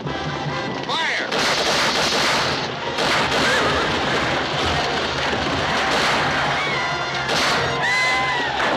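A western movie battle brings a volley of rifle and gunfire: loud, repeated shots and crashes over several seconds, with shouting and crowd noise throughout.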